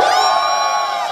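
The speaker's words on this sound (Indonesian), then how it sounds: "Nasib baik ada orang jerit." A crowd at a film event shouts and cheers, many high voices whooping and screaming together in one loud, sustained burst.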